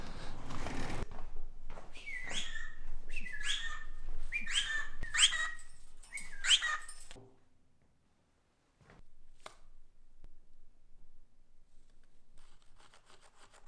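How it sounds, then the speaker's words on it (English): A pet bird indoors at a house chirping and whistling in a run of bright repeated notes, mixed with scraping and rubbing sounds, then quieter scattered clicks. "Let's get ready for some chirping here."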